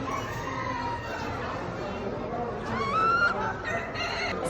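Naked Neck chicken clucking at close range, a busy run of soft calls with a louder, rising cluck burst in the second half.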